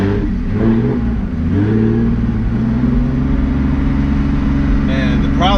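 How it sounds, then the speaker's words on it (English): A Porsche 911 GT3 engine with a race exhaust revs and roars up through the gears from inside the cabin, loud and continuous, with a brief whine near the end. "I'm testing the exhaust."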